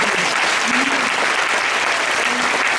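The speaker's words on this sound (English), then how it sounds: "Let's give another round of applause." Sustained applause from a lecture audience fills the room, dense and steady clapping throughout with a faint voice or two underneath.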